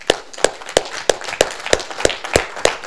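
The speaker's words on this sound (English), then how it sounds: "Let's give Jacob a round of applause." About nine claps for Jacob land in a steady, evenly spaced rhythm, crisp and close, with nothing else audible between them.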